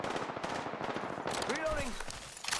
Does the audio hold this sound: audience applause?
no